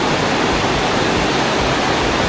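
Clear glacier meltwater stream rushing near a village in Turtuk, Ladakh: a steady, close, full hiss of flowing water, continuous and alone throughout.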